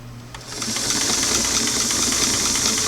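An old Singer sewing machine, run from a restored clam-shell foot pedal, starts up and stitches slowly with a steady, close mechanical whir and a soft rhythmic chatter of the needle.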